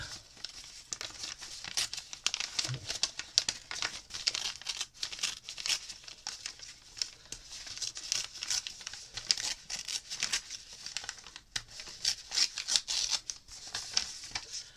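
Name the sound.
crumpling brown paper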